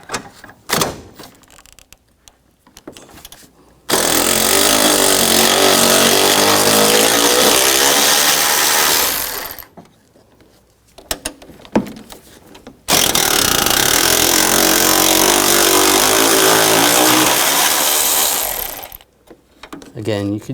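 A power tool or impact driver removing the 10mm side bolts from the AC condenser of a 2004-2009 Toyota Prius, two long loud whirring bursts separated by quieter clicks and handling noises.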